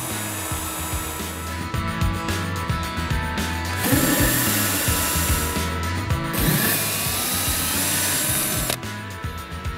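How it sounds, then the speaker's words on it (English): A loud power tool whines and grinds continuously up close as it carves a pumpkin, its pitch rising and dropping as it cuts, with brief bursts of higher-pitched buzzing. "Power tools."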